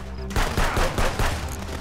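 Gunfire in the video game Contraband Police cracks out in a quick run of close, loud shots, several reports in under two seconds over a busy game background.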